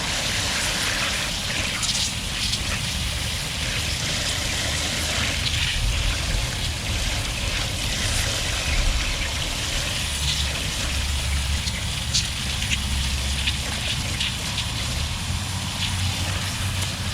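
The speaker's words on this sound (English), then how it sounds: "Swap back to the cold water, washing it on out." Cold water runs steadily from a tap over a spiral tie-dye shirt being rinsed out, a continuous close splashing and trickling hiss that stays even and unbroken throughout.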